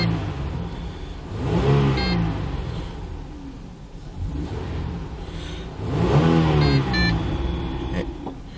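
Holden car engine revving twice, each rev rising in pitch and then falling back to a steady idle, loud and close with no talking.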